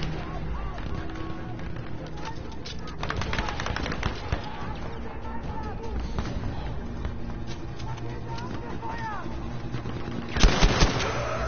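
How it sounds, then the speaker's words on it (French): Battlefield V gunfire crackles in dense bursts throughout, with rapid automatic fire and sharper close shots near the end, set against a busy battlefield din and talk. "Mais vas-y, je lui tire dessus là."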